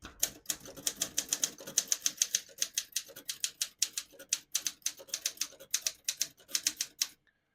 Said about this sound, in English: Excellent condition typewriter. Super fun and easy to type on.